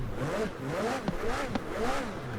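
A McLaren Speedtail in Forza Horizon 4 revs hard, its engine note sweeping up and down in repeated rising pulls, loud and close.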